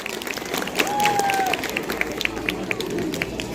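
Audience applause for an award recipient at a school annual day and result ceremony, a steady patter of clapping across the hall with a voice and faint tones over it.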